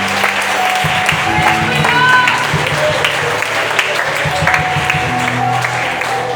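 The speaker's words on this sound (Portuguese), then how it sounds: "Vamos pode aplaudir o nome do Senhor Jesus" A church congregation applauds the name of Jesus during a sermon to pastors: loud, close, sustained clapping from a crowd, with a voice and faint musical tones underneath.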